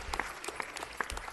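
A brief, scattered round of hand clapping from a small group in a city council meeting room, a handful of distinct claps heard at moderate distance.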